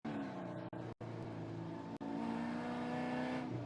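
Mazda Miata race cars running side by side in a spec race, engines droning loud and steady with harmonic revs, two brief dropouts, under faint commentary.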